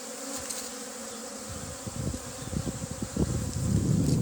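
A dense, steady buzz of many honeybees at an opened beehive during inspection swarms close by, growing louder toward the end, with occasional rustling and knocking.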